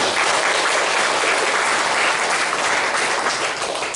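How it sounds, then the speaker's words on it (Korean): A church congregation applauds the choir during a Korean Sunday worship service, a loud, dense, steady wash of clapping that lasts throughout without pause. "거기에 어울리는 또 찬양을 해주신 우리 성가대를 위해서도 다시 한번 감사의 박수"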